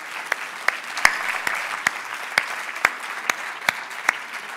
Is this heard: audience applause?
yes